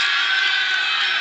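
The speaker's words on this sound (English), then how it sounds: "Really giving the crowd something to cheer about" A cricket crowd at a Nepal versus Scotland match cheering, a steady bright roar of many voices sustained throughout without breaks.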